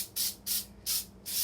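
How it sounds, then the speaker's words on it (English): Cooking spray hisses onto muffin tins in four short, even bursts close by, each about a quarter second long with brief pauses between, and no voices. "we're gonna spray these"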